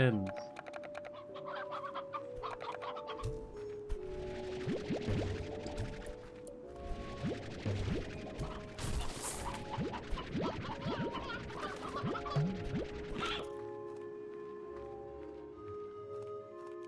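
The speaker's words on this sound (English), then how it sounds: "Chickens!" Chickens cluck and squawk in the video game Slime Rancher, with repeated short calls scattered over a busy backdrop of game music and effects, moderately loud throughout.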